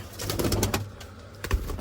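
Soft, low pigeon cooing repeats in short pulses, fairly close, with faint background rustle and a brief louder thump near the end.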